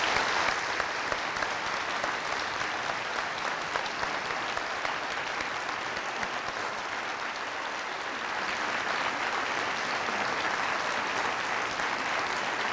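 Audience applause in a large hall at a university law faculty event: dense, sustained clapping from a big crowd, steady and even throughout without pauses.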